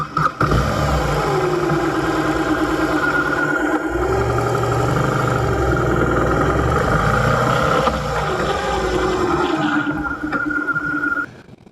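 A BMW R18 boxer motorcycle engine starts up and settles into a loud, steady rumble, with rising and falling revs as the throttle is blipped, close by and alone.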